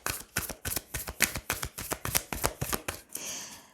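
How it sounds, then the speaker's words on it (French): Tarot cards being laid down one after another make a quick run of soft slaps and shuffling flicks, about a dozen close taps in an uneven rhythm, followed by a brief rustle, with no talking. "Allez, je vais recouvrir certaines cartes."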